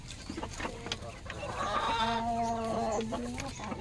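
Hens cluck inside a chicken coop, with several close, repeated clucks and one drawn-out, wavering cackle rising in the middle over a quiet room background.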